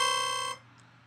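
A formant bass patch in Native Instruments Massive with a hard clipper insert, a bright buzzy harmonic tone held for about half a second, then cut off, leaving a faint tail.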